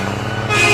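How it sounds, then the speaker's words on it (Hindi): A truck horn blares loud and close in a steady, sustained tone as the truck passes by, swelling brighter partway through over the rumble of road traffic. "जो उनके बगल से गुजरती हुई ट्रक के हॉर्न की थी।"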